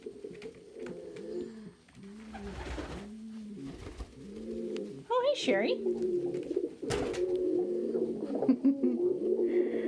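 Pigeons coo in deep, repeated rolling calls from nearby boxes over breakfast, with a brief wing flutter and scuffle partway through; someone speaks briefly over the birds.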